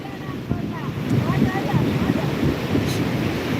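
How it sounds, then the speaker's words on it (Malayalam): Big sea waves roll and crash on Vettukad beach, a loud, continuous surf roar mixed with wind buffeting, with faint distant voices and chatter in the background. "അതാ വലിയ തിരമാല അതാ വരേണ്"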